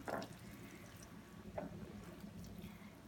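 Leftover water being stirred into homemade gak slime, heard as soft squelchy wet sloshes at the start and again midway over a quiet background, with no talking.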